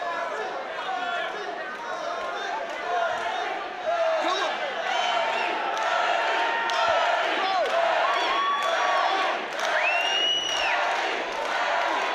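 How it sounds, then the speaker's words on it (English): An arena crowd at a UCMMA 53 mixed martial arts fight cheers and shouts in a dense, steady wall of noise, with scattered whistles and thumps and a commentator talking over it. "Everybody in this arena shout, Eddie, Eddie, and you'll see them go nuts there"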